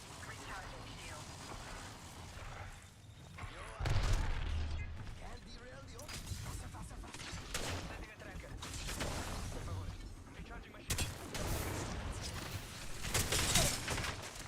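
Video game gunfire crackles in bursts throughout, with several sharp loud shots at moments, mixed under casual talk and laughter between friends.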